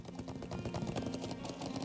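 Horse hooves clip-clop in the video game Trails of Cold Steel, a quick steady patter of faint, light hoofbeats under game music.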